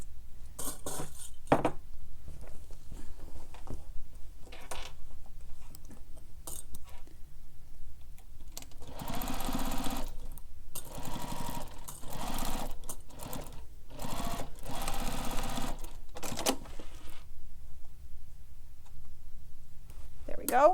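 A home sewing machine bastes fabric backpack panels with a regular stitch length, whirring in several short bursts of rapid stitching separated by pauses, with occasional clicks and a voice talking between runs.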